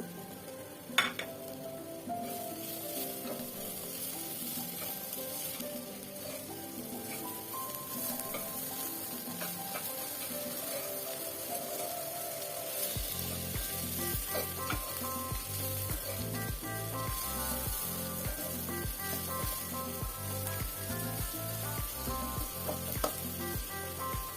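Vermicelli fries with grated coconut and raisins in a pan for sweet zarda semai, giving a steady close sizzle with stirring scrapes. Partway through, a rhythmic thumping pulse joins and continues to the end.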